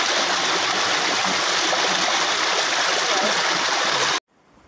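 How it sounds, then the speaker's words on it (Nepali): The Rangeet river flows as a steady, loud rush of stream water filling the scene for about four seconds before cutting off abruptly. "फेरि पनि खोला तर्नु पर्ने हुन्छ यहाँ।"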